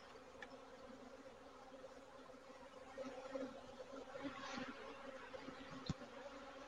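A steady, low buzz of many honeybees at a hive drones throughout, soft and continuous, with a few brief louder passes close by.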